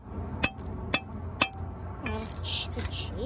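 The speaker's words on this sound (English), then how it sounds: "You just see it being smashed." A flat seashell is smashed with three sharp, evenly spaced cracking clinks, followed by scraping and rustling of shell fragments close by.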